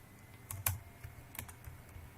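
Keys tapped on a computer keyboard while entering text into a text box, a few sparse clicks in a short burst with small pauses between them, close and fairly quiet.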